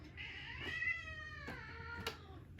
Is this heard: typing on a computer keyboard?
no